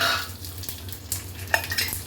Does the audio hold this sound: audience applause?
no